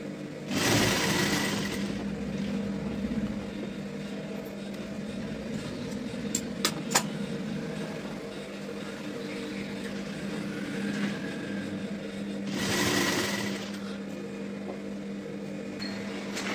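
A sewing machine stitches a kurti sleeve in two short bursts of fast whirring, one near the start and one near the end, with a low steady hum and a few small clicks in between.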